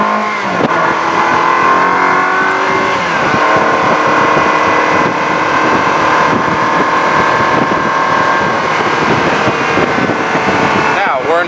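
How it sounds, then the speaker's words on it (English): A Ferrari F1 car engine revving loudly and continuously, with a steady high-pitched drone and a brief shift in pitch during a rev-matched downshift, heard close up with wind noise. "it skipped third gear and went straight to second gear, but it also rev matched the throttle"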